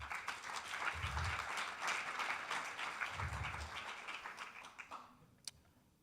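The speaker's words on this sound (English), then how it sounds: "So I think they well deserve another applause" Applause at a conference's lightning talks and closing address, a quiet, distant patter of many hands that fades out near the end, with a few low thumps along the way.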